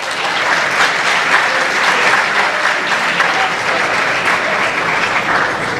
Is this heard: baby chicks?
no